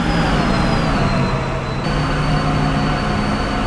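A PRR V2 Santa Fe Express train engine in a train simulator game drones loudly and steadily, with a sustained tonal whine over a dense rumbling roar.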